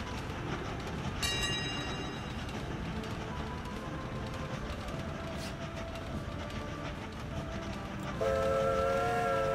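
A train rushes through in the game Train Valley, a continuous rumbling rail noise with a short whistle-like tone early on and another tonal horn sounding near the end.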